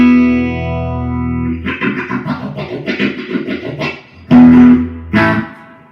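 A distorted electric guitar run through a sweeping modulation effect, chords and single notes with a warbling, phasing character.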